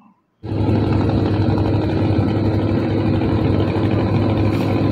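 A motorboat engine starts abruptly after a brief quiet moment and runs continuously on a river crossing to Mayapur ghat, a steady, loud low rumble with no talking.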